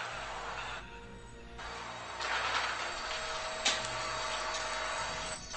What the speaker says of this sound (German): Der Staubsauger seiner Mom.